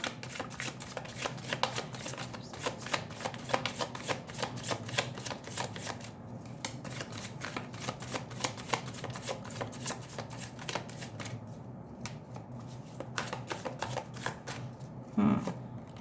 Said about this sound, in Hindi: अभी हम कुछ कार्ड्स ऐसे लेते हैं।